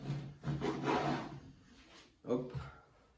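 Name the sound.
knife cutting cookie dough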